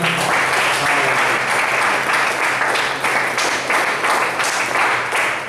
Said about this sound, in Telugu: వారిని ప్రేమగా చప్పట్లు కొడదాం